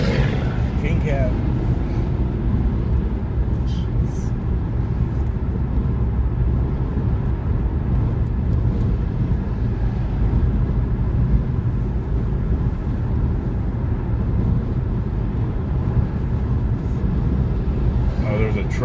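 A truck hauling a load rolls along a traffic lane during a highway convoy, a heavy, continuous low road rumble filling the scene from start to finish while people talk over it.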